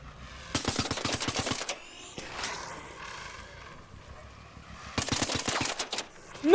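Gunfire in the video game Arc Raiders: two rapid automatic bursts of closely spaced shots, separated by a quieter stretch of rattling mechanical noise, with a sharp loud hit right at the end.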